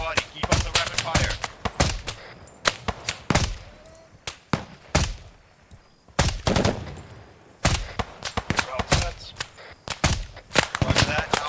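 Rapid gunfire during military training, loud sharp reports crackling in dense irregular bursts, some overlapping, with shouted commands between volleys.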